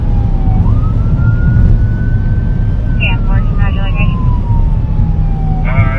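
Police car sirens wail in a high-speed police chase, the rising and falling tone sweeping steadily behind a moving car with a few short yelp bursts over loud road and engine roar.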